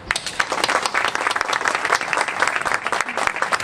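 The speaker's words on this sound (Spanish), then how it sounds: "Un aplauso para ella." Warm audience applause for someone speaker at a talk in Marbella, a thick, continuous burst of many hands clapping close by, steady and loud throughout the short span.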